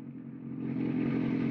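A motorcycle fitted with an aftermarket exhaust idles close by, its low throbbing rumble growing louder and steadier as the engine picks up slightly, heard alone without talk.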